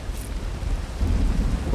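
Daytime rainstorm in the video game HunterZ, with steady rain hiss and deep rolling thunder rumbling underneath, swelling louder toward the end, with no talking.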